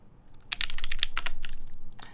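Fingers type on a computer keyboard with an unfamiliar key layout, producing a steady, close burst of crisp clicky keystrokes that runs for about a second and a half without pause.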